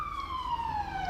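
A wailing siren drifts down in pitch as an emergency vehicle passes outside, heard faintly through a room over a low background hum.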